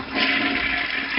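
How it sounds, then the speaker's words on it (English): A toilet flushing close by, one loud continuous rush of water lasting the whole moment with no voices over it. "And another courtesy flush."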